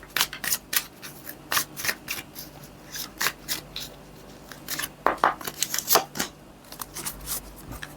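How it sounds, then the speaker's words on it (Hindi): Tarot cards are shuffled and drawn during a weekly horoscope reading, giving a close series of sharp, crisp card snaps and riffles in irregular quick clusters with no talk over them. "एक और कार्ड पुल कर लेती हूँ आपके लिए।"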